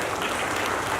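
An audience applauds after a stage play about Shahid Bhagat Singh, a steady wash of clapping that is moderately distant and even throughout.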